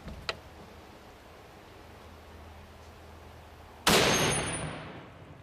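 A Barrett .50 BMG rifle fires at titanium with one sudden, loud, close blast whose boom trails off over the following second, preceded by a faint tick.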